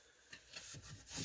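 A blade or tool rasps against a plastic vehicle dashboard being cut and trimmed to fit a double DIN radio in a Dodge Durango, a few short close scraping strokes, quiet and without talk.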